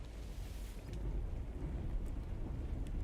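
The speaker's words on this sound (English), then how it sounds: "I do like the sound of that rain though, I can't lie." Steady rain falling in No Man's Sky, a broad low rumbling wash with faint distant thunder-like roll, continuous and moderately quiet.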